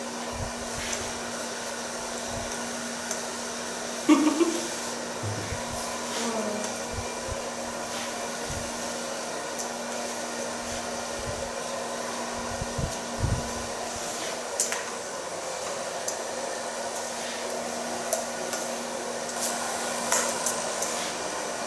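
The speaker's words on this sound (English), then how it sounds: "So far blow drying." A hair dryer hums steadily while blow drying long hair, a continuous close whir with a low tonal drone and occasional small bumps and shifts as it moves, with no talking.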